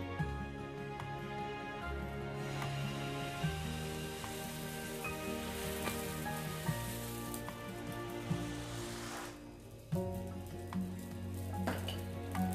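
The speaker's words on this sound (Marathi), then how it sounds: "यावर आता आपल्याला डोश्याचं बॅटर टाकायचं आहे." Rava dosa batter sizzling on an oiled pan: a soft continuous crackling hiss, faint and steady under background music.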